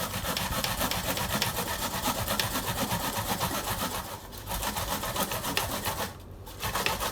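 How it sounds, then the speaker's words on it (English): Fresh corn being grated by hand on a cheese grater, a steady close-up scraping and rasping that runs continuously, broken by two brief pauses near the end. "you start off with grating your corn"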